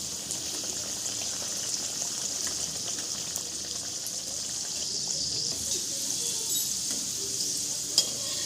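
An egg chicken pocket paratha fries in a pan with a steady, soft sizzle and a few faint clinks, continuous and close without speech.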